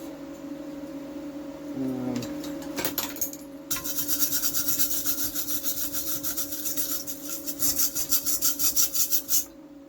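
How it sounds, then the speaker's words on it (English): A stainless steel wire brush scrubs an aluminum weld on a MIG welding job, with short scrapes at first, then a long run of fast rhythmic strokes, loud and close over a steady background hum. "Clean that off again. That's a stainless steel brush."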